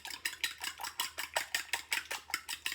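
Steady rhythmic scraping and clinking of a utensil stirring in a frying pan, about four strokes per second, close and clear with no talking.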